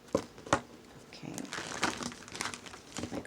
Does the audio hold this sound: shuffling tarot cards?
yes